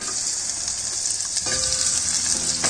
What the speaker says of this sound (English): Heat oil in a pan, add sliced onions